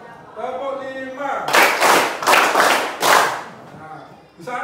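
Loud, close hand claps land in a rhythmic run of about four beats between stretches of a teacher speaking in a maths class, with a short trailing clap at the end.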